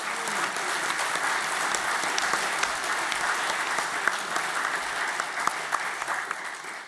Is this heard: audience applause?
yes